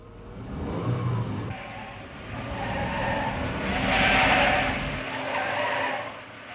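A 1964 Opel Kapitän A being weaved on a test course, its tires squealing and skidding in drawn-out waves over engine noise, loud and close, rising to a peak before easing off.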